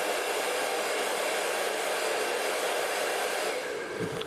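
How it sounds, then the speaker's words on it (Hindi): A hair dryer blows continuously at close range while drying long hair in a styling session, a steady loud broadband whoosh with no talk over it. "अब हम क्या करेंगे, इस वाले पार्ट में हम हल्के से ड्राई करेंगे।"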